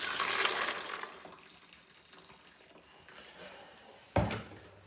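About 4.5 litres of boiling water pours steadily, loudest at first and then thinning to a soft trickle, followed by a brief knock near the end.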